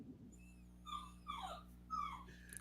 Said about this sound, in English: Somebody's dog crying?